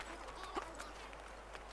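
Horse hooves clip-clop faintly in Assassin's Creed Valhalla, a light, steady trot heard far off and quiet beneath a low ambient bed.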